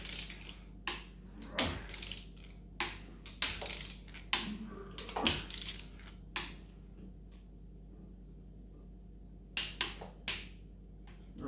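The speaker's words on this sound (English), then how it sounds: "I'll back up the torque wrench now" Ratcheting clicks from a torque wrench turning a Holden HQ GTS 253 V8 engine toward top dead center, short bursts of close metallic clicks with pauses between them.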